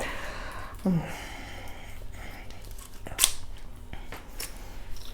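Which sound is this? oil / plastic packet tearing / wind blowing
plastic packet tearing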